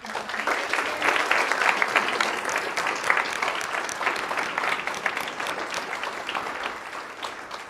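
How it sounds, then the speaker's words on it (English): Sustained audience applause for service dog team graduates at an August graduation ceremony, a dense steady wash of many hands clapping that continues at an even level before tapering slightly near the end. "Can we give one more round of applause for all of our graduates?"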